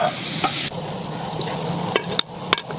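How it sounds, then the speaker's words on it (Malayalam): Ginger and garlic fry in a pan, a close sizzling hiss that surges as they hit the oil, with stirring scrapes and a few sharp clicks, no talking. "ഇനി ഇതിലേക്ക് നമ്മുടെ ഇഞ്ചിയും വെളുത്തുള്ളി ഇട്ട് കൊടുക്കാട്ടോ"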